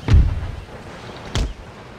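Two heavy artillery cannon shots boom in an Empire Total War Darthmod battle fought as Spain, each a sharp, loud blast followed by a short rumbling tail, spaced about a second apart.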